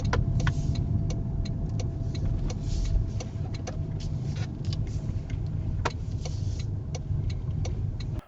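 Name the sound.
car driving into a parking area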